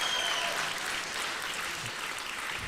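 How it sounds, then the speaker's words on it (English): A local crowd at a squash tournament semi-final in Cape Town applauds and cheers steadily throughout, a dense even wash of clapping with no clear break. "You could hear the local crowd trying to motivate their player."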